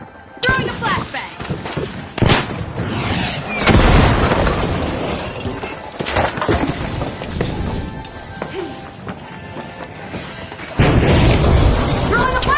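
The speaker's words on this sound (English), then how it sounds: "Throwing a flashbang!" Flashbang grenades and shattering, crashing impacts go off in a chaotic match of the game The Finals, loud blasts and debris crashes over continuous gunfire and clatter, with voices calling out.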